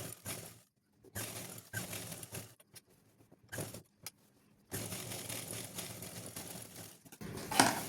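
A sewing machine stitches a suit, running in short bursts separated by pauses and then in one longer run, fairly quiet and close, with no talk.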